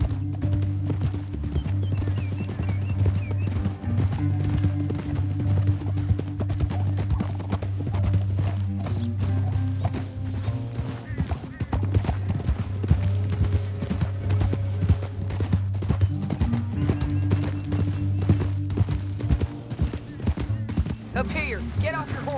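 Horse hooves clip-clop steadily through a Red Dead Redemption 2 scene, with a horse whinnying now and then over a low droning musical score, continuing throughout.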